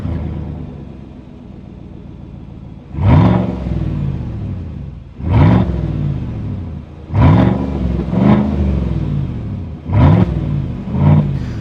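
A 2021 GMC Sierra Denali's 6.2 liter engine idles with a low rumble, then revs sharply several times in quick, loud bursts, each roar falling back toward idle.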